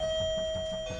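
A doorbell rings once with a clear sustained chime tone, close and fairly loud, over a faint low rumble.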